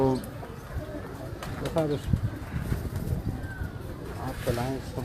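Pigeons coo softly in the background while someone talks over them nearby.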